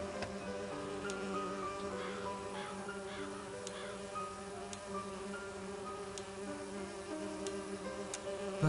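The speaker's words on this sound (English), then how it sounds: "I don't have what I need yet for these bees," A steady, humming drone of bees from an Agatha Christie video game runs on without a break, faint, even and unaccompanied, with a few soft ticks now and then.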